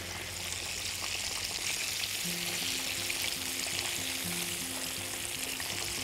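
Chicken drumsticks frying in hot oil, a dense continuous sizzle and crackle held close and steady throughout, with a faint low hum underneath and no talking.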